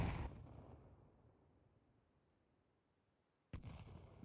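Grenade blast in a Counter-Strike match: a loud burst at the start that fades into a long quiet decay, then a second sharp loud burst near the end, with no talk.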